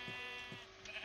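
A sheep in Minecraft bleats twice in quick succession, short low-pitched calls over a steady background hum, fairly faint and with no talking.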